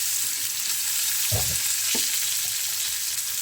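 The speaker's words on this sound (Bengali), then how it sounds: "এবারে পেঁয়াজটা দিয়ে দিই।" Chopped onion hits hot oil with mustard seeds and asafoetida for matar poha, giving a continuous loud hissing sizzle. A couple of soft low thumps come as the onion drops into the pan.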